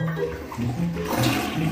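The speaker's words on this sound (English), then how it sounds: "are you guys ready for an epic flush?" A novelty color-changing mood ring toilet flushes with a loud, steady rush of water swirling through the bowl, the roar holding for the whole stretch, close up and with no one talking.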